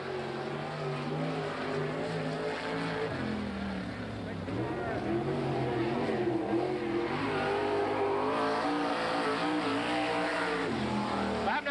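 A 1987 World of Outlaws sprint car on a qualifying lap at Hales Corners, its engine droning and rising and falling in pitch as it circles the track, heard faint and distant beneath a track announcer's voice.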